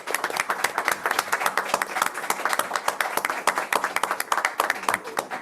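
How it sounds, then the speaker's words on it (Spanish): Audience applause at an international law conference on film and TV series: brisk, loud clapping from a crowd, with many distinct claps forming a steady rhythmic wash across the whole stretch. "les pido un aplauso muy grande."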